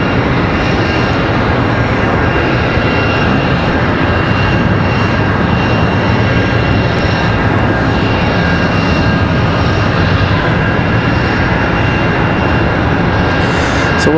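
An ERJ regional jet at Charlotte Douglas airport produces a loud, unbroken engine roar that stays close and constant for the whole stretch, with no voices.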